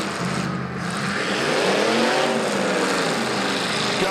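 A demolition derby car engine at a county fair roars under full throttle, loud and continuous with a rising, revving pitch amid dense crowd and arena noise.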